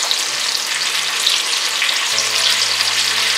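A medium tomato cut into thick pieces, frying in a pan for chili momo, giving a loud, close, steady sizzle and hiss that continues without a break.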